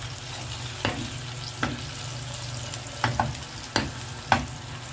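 Fish frying in a pan with a very small amount of oil, a steady close sizzle broken by several soft clinks and stirring knocks.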